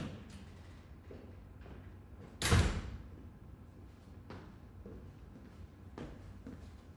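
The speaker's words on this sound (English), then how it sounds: "I'm gonna close this door." A door pushed shut, landing as one loud thud midway through, surrounded by faint room noise and small knocks.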